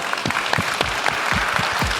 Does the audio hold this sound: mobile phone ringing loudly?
no